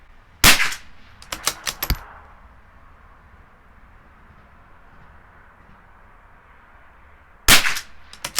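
Shots from a CZ 457 rimfire rifle firing Eley Tenex ammunition at a target, sharp loud cracks in a quick cluster of about five, then quiet outdoor air and another burst of reports near the end.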